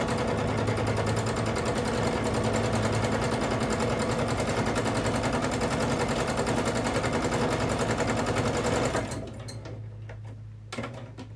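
A Baby Lock Jazz II sewing machine stitching thread art runs in a fast, steady mechanical whir for about nine seconds, then stops, leaving faint clicks and handling noise.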